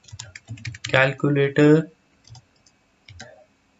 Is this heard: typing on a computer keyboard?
yes